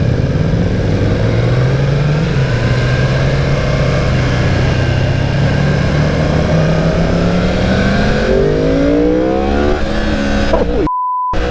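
A Yamaha R1 sport motorcycle on a demo ride, its engine loud and close as it climbs through revs, pitch rising steadily before a final sharper surge, then cutting off abruptly.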